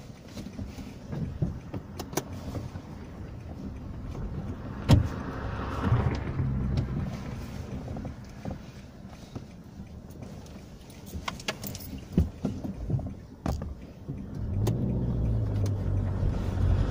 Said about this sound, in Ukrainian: Їдемо далі.